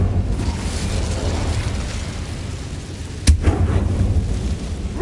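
Incendio fire spell cast in Hogwarts Legacy, a sudden sharp burst rising out of a low rumbling game ambience, followed by a brief crackling whoosh that fades back into the background.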